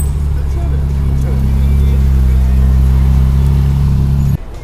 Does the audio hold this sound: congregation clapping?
no